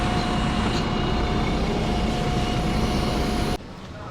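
A Dubai metro train runs past overhead, a loud sustained rumble with a steady tonal whine that fills the scene, then drops away sharply near the end, leaving quieter street noise.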